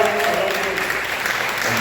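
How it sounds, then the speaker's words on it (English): Audience at a festival Q&A applauds steadily and loudly throughout, a dense continuous wash of clapping hands. "a big round of applause here"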